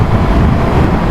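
Steady wind buffets the microphone with a low, rumbling roar that fills the whole second without a break.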